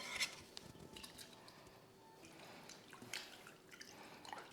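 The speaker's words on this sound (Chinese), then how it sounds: "你就慢慢让它滴掉那些水分就好了" Water drips slowly from freshly washed vegetables draining after a rinse, including shallots, for a Thai-style tofu dish, with soft, scattered drops and light splashes that are faint and close, with no talk over them.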